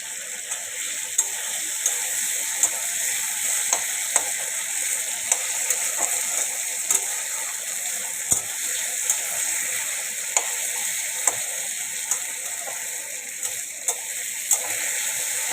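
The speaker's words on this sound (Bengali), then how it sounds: "আলুটা ফ্রাই করে নিলাম" Potatoes fry in a pan with a continuous crackling sizzle, punctuated by regular soft ticks and pops at roughly one-second intervals, with no voices.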